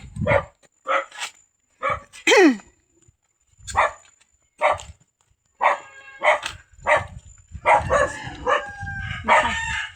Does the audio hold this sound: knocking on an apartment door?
no